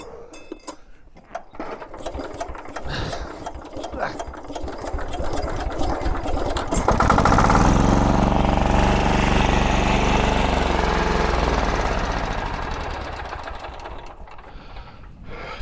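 A Zarya 135 walk-behind tractor engine is cranked with a geared starter, a rattling effort that catches and settles into a loud, steady chugging idle before easing slightly toward the end.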